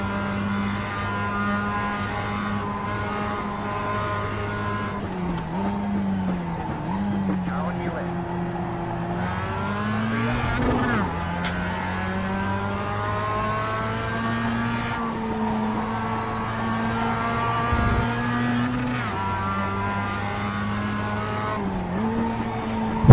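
Mazda race cars in iRacing at Laguna Seca, the engine a steady sustained whine that climbs and drops with gear changes and corners, and brief tyre squeal in places. It runs continuously and fairly loud, with a voice talking over it.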